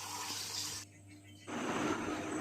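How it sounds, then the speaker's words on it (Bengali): Water pours steadily into a pot of cooked chicken for Kolkata-style biryani, a continuous rushing splash that stops briefly and then resumes, with no voices. "এবার আমি অ্যাড করব জল।"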